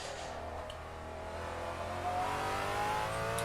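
A racing video game car's engine steadily accelerates around the circuit, its tone rising gradually to a continuous, fairly loud drone with no talking over it.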